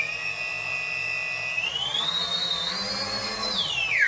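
Whining electric motors of an RC VTOL airplane spin up and rise sharply in pitch as the craft lifts off the ground, a steady, loud buzzing tone that wavers and climbs, with no talking.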